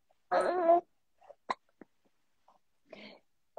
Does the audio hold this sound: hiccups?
yes